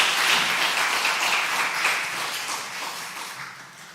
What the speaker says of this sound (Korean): 우리 격려와 축복의 박수 해주시기 바랍니다.